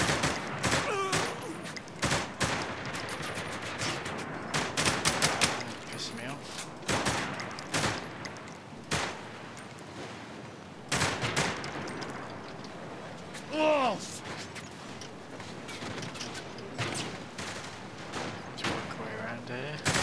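Scattered gunshots crack out at irregular intervals in Saints Row: The Third, sharp sudden bursts separated by brief lulls, with a few voices and other game sounds in between.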